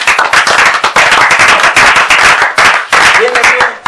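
A church congregation claps loudly in acclamation, a dense, sustained burst of many hands with sharp rhythmic slaps that continues throughout, briefly thinning near the end.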